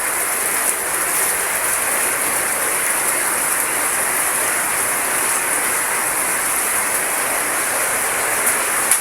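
Heavy rain falls during typhoon season, a dense, steady hiss of downpour drumming on surfaces, loud and unbroken for the whole stretch with no voices.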